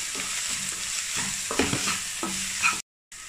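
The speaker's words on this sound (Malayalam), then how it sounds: "അതിലേക്ക് നമുക്ക് ഇഞ്ചി വെളുത്തുള്ളി പേസ്റ്റ് ചേർത്ത് കൊടുക്കാം. ബ്രൗൺ കളർ ആവുന്നത് വരെ വഴറ്റിയെടുക്കാം." Onion with ginger garlic paste sautéing in a pan, with a steady sizzle broken by scraping stirs and clanks of a utensil, then a brief silence.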